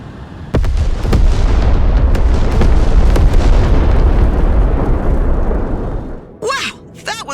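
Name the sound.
ballistic missile strike explosions, Broken Arrow video game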